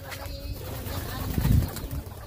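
Low, soft pigeon coos rise briefly amid a noisy outdoor background, with faint talking nearby.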